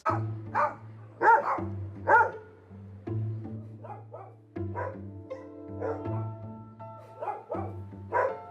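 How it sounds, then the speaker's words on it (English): Several big dogs bark in deep, repeated bursts, loud and close, with overlapping yaps and whines between volleys. "we have some big dogs"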